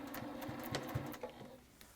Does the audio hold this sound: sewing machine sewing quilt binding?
yes